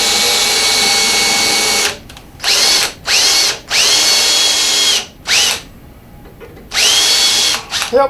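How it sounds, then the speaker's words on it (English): A power drill drives wood and deck screws into a storage cabinet during a repair, in loud, close whirring bursts: one long run, then several shorter spurts separated by brief pauses. "then we just run 2 wood screws in, 2 deck screws in this"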